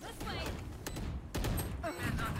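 Scattered gunshots in the tactical shooter Valorant, a few sharp cracks among game effects under a player's steady talking.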